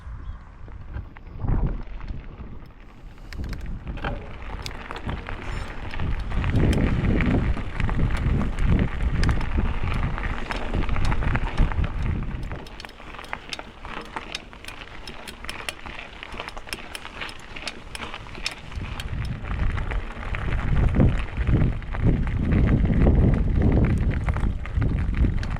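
Gusty wind buffets across open ground at Silverdale Country Park, rising and falling in rough rushing surges, loud and close with a blustery rumble that swells strongly in the middle and again near the end.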